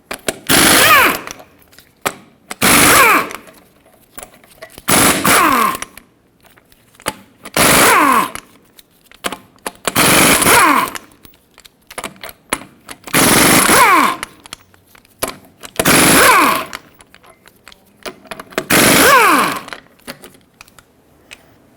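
Impact tool spinning 21mm lug nuts off a Ford F-350 Super Duty front wheel, eight loud bursts of half a second to a second, spaced at regular intervals with quiet gaps between them.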